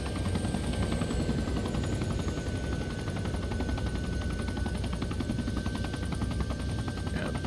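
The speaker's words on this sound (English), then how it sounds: "So the transport helicopter should land." Transport helicopter in the Arma 3 combat game hovering nearby, a steady loud rotor thrum and engine drone running unbroken throughout, with faint rapid gunfire crackling underneath.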